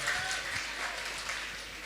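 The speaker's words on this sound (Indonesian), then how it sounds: "Tepuk tangan buat anak-anak Fakultas Ekonomi dan Bisnis Universitas Islam Indonesia." Faint applause from an audience greeting economics and business students of Universitas Islam Indonesia, a steady soft patter of clapping lasting about two seconds with no talk over it.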